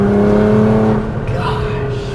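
A 700 HP FBO R35 Nissan GT-R pulls hard with a loud, steady engine drone that suddenly eases back to a lower, rougher hum, heard from close by.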